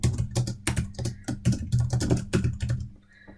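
A name is typed on a computer keyboard as a quick burst of close, clicky keystrokes in an uneven rhythm that stops near the end, with no voice.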